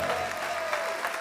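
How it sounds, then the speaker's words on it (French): Studio audience applauding a guest arriving on a talk show, a steady wash of clapping filling the whole short moment without pause. "On va l'applaudir très fort, s'il vous plaît"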